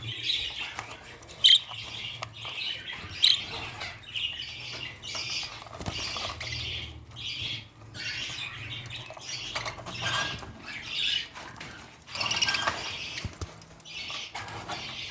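A room of twelve cages holds small songbirds with their chicks and eggs, filled with constant busy chirping and twittering from many birds at close range, and no talking.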